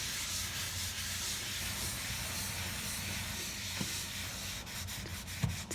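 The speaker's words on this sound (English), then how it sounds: "And I just scrub." A surface is scrubbed during cleaning, giving a steady hissing, rubbing scour with a few small knocks near the end, close by, with no voices.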